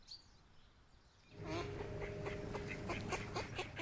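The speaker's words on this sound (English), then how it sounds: "They passed an oval-shaped duck pond with quacking ducks in it." Ducks on an oval-shaped pond quack in a lively flurry of repeated calls that start suddenly after a quiet opening and carry on close and loud to the end.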